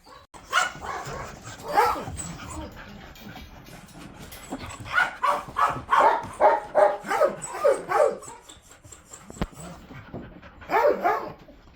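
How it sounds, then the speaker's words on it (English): Shelter dogs in kennels bark in loud, overlapping bursts, with pauses between the clusters of barking. "They bark as soon as they see a person, jumping against the fence, tails wagging wildly"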